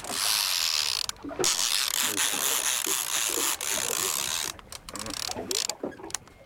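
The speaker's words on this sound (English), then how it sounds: "Kill that ratchet." A fishing reel's ratchet clicks in a rapid, continuous buzz while line is wound in on Port Phillip Bay, loud and close, with brief breaks and faint talk in the background.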